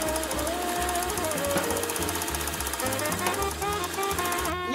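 A sewing machine stitches the seams of a pillow, its steady mechanical chatter running continuously and loud throughout, with a pulsing low rhythm and a brief pause near the end.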